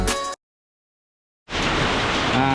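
Heavy rain pours down in a loud, dense, steady hiss that breaks off into about a second of silence before the downpour resumes.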